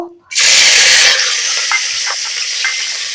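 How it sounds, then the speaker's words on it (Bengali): Green chillies are dropped into hot mustard oil left from frying fish and erupt into a loud, close sizzle that settles into a steady crackling hiss, with a few stirring scrapes and no talk. "মাছ ভাজার তেলটাতেই আমি এই লঙ্কাগুলো দিয়ে দেব"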